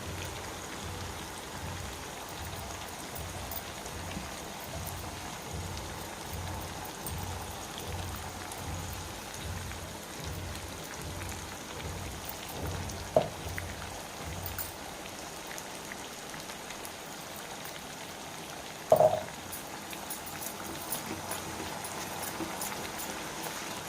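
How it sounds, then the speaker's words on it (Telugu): A sesame and bottle gourd stew simmers on low heat, the pot giving off a steady, gentle bubbling patter with a rhythmic low plopping early on and a couple of faint clinks. "ఇప్పటి నుంచి ఇంకా సిమ్లో పెట్టుకొని చక్కగా ఉడికించుకోవాలి పచ్చడి అంతాను"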